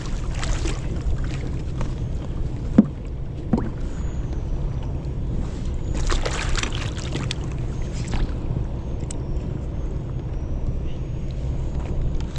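Steady wind rushes and buffets the microphone on a fishing boat out on the water, with occasional light knocks and splashes and someone speaking briefly.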